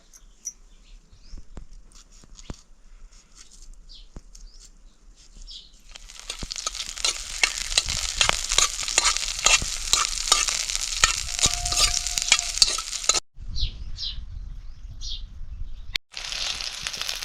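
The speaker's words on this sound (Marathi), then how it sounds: "पहिल्यांदा मिरच्या आपल्याला त्यात थोड्याशा तळून घ्यायच्यात त्या मिरच्याला मी असं अर्ध केलं आणि टाकते" Halved green chillies frying in oil in a kadhai: a quiet start with light taps, then a loud, steady sizzle with stirring, a brief break, and the sizzling resumes.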